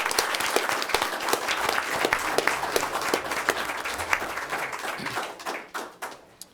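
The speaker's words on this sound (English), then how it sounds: "Another round of applause." Applause from the audience at a school board of education meeting, a dense round of clapping that holds steady for about five seconds and then thins out into scattered claps before dying away.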